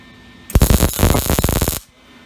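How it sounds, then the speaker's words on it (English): MIG welding on car suspension brackets for a triangulated 4-link install on a 1936 Chevy Coupe: one loud, crackling buzz of about a second and a half, close up, starting and stopping abruptly with no talk. "I just love welding blind."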